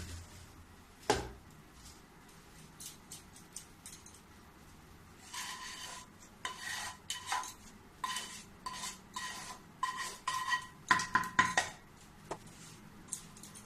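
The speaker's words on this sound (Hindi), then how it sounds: "अब इसको मैं एक थाली में निकालूंगी। देखो मैं यहाँ एक थाली रख दी हूँ और इसी में मैं ये सारा कढ़ाई वाला डाल दूंगी।" A spoon scrapes and knocks against a kadhai while homemade laddu mixture is emptied onto a thali: an isolated clink early on, then a quiet run of irregular scraping strokes and clatters, close up, with no talking.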